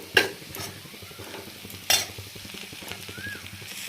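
Fried potatoes with tomato, turmeric, chilli powder, sugar, ginger paste and curry leaves are stirred and fried in a pan. Two sharp spatula knocks stand out over continuous close scraping and a gentle sizzle.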